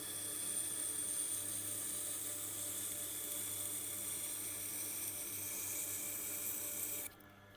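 Tormek sharpening machine working the edge of an 8-inch Victorinox chef's knife: a steady, close grinding hum with a high whine and faint scraping, holding even until it drops away abruptly near the end.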